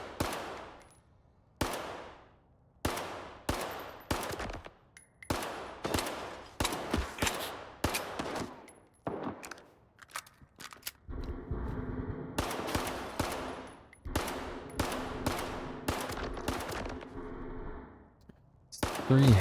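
Rapid bursts of automatic gunfire and single shots in the S.T.A.L.K.E.R. 2 video game, loud and echoing, in repeated clusters with short pauses and a sustained rattling stretch midway.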